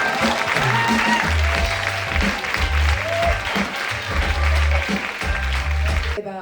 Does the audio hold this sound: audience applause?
yes